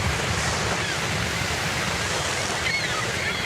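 Ocean surf washes steadily through a radio station jingle for 1010XL, a continuous broadband hiss and roar of breaking waves with no distinct individual crashes.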